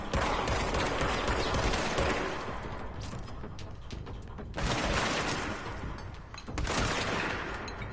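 Repeated shotgun blasts and heavy gunfire roar through a firefight in the video game Control, loud and dense with barely a pause, the volume dipping briefly before fresh bursts break out again.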